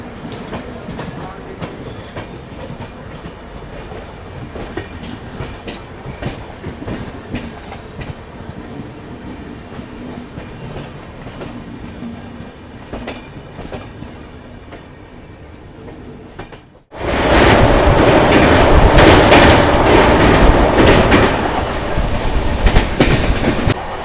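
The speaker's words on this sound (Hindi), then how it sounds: "गोरखपुर आनंद विहार हम सफ़र एक्सप्रेस, टाइम से बिफोर चल रही है" Gorakhpur–Anand Vihar Humsafar Express running slowly near Anand Vihar, with a steady rumble of rolling wheels and rail clatter that suddenly swells into a much louder, closer roar of passing coaches in the final seconds.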